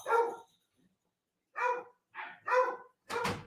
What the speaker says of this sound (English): Oh, my Lord, my land, that dog.